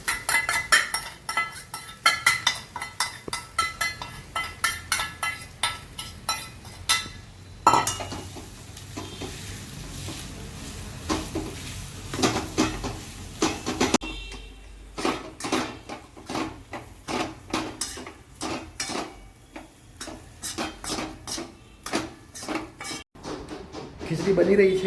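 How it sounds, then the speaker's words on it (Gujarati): Khichdi is stirred and mixed in a pot in a home kitchen, with repeated scraping strokes of a spoon against the metal over a soft background sizzle and occasional clinks of utensils. "હલાવી લઈશું પહેલાં થોડું બરાબર મિક્સ કરી લઈશું"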